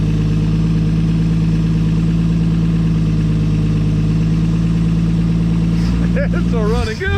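A 1959 Edsel Ranger V8 idles steadily and loudly up close, its low rumble even and continuous until a brief disturbance near the end as people speak over it.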